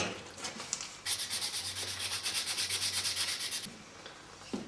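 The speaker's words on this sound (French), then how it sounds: "Ce modèle en bois, il faudra l'affiner maintenant, il faudra le poncer, le polir correctement comme il faut" Steady back-and-forth sanding of a wooden knife model, a close, rhythmic rasping of quick even strokes that runs for about two and a half seconds between softer handling sounds.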